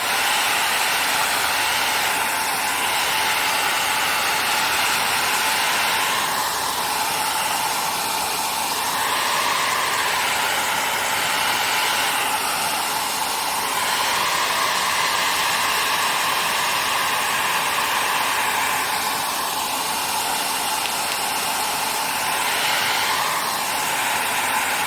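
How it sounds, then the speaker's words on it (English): A handheld blow dryer runs steadily at close range while paint dries on an art journal page, giving a continuous broadband whoosh with slight wavering, and no talk over it. "I'm going to turn on the blow dryer"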